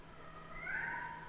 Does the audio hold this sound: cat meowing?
yes